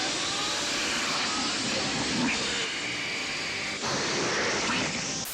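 A plane's engine in the video game GTA San Andreas gives a continuous loud roar with steady hiss, unbroken across several seconds apart from one brief dip, with no clear talk over it.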